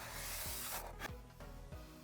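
Hand sanding of a wooden toolbox, a steady dry rubbing rasp in continuous strokes with a few brief pauses, close and fairly quiet.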